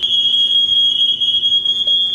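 Fire alarm ringing inside a campus building in the video game Campus Hunter, a loud continuous high-pitched electronic tone held steadily throughout with no speech.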